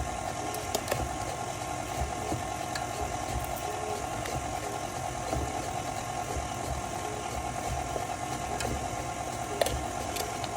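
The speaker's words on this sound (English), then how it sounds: "As you can see, my mixer is still on the lowest setting." Electric stand mixer whirring steadily on its lowest speed while beating red velvet cake batter, a constant close motor hum with faint rattling and no pauses.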